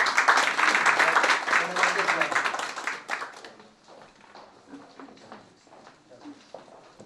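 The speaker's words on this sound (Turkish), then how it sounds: "Buyurun sizi buraya alabilir miyim? Tamam. Alkışlarınızla" An audience at a chef competition evening at a culinary academy, hosted by Kikkoman, applauds to welcome guests. Dense, loud clapping fills the first three seconds, then thins into scattered claps and fades under voices.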